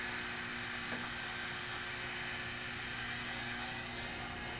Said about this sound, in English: As the finish works into the blank, I'll speed up the lathe and press a bit harder.